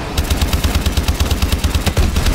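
Rapid automatic gunfire in Call of Duty: Advanced Warfare Zombies, a loud, steady stream of evenly spaced shots that continues throughout with no pause.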